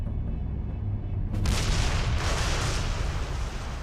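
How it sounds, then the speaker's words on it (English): Incendiary bombs explode during a WWII bombing raid on a city: a low rumble gives way to a sudden heavy blast that rolls on as a loud, sustained roar. "Other aircraft dropped incendiary bombs."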